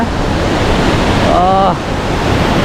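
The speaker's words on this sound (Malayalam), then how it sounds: "നല്ല ദമ്മിലാണ് വെള്ളം ചാടുന്നത്" Water rushes loudly and continuously, like a strong torrent, with a short voiced sound briefly rising over it midway.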